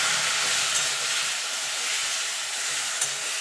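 Tamarind water added to hot oil for jujube pickle gives a loud, dense sizzling hiss that holds steady for several seconds, with no talking.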